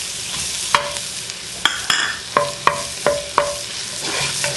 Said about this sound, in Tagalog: So susutay din natin ito hanggang maging transparent naman yung ating onions